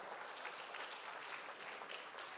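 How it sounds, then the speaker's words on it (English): Sustained applause from an audience at a charity auction fundraiser, a steady wash of clapping at moderate level with no talk over it. "Big round of applause to all the generous people that have given at 15"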